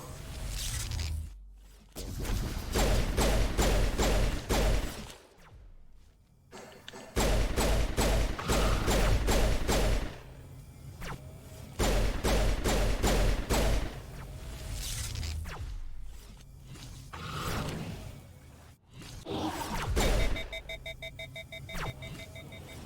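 Bursts of pistol fire in the game Mass Effect come in loud rapid clusters of sharp cracks, separated by short quieter gaps, with game effects mixed in.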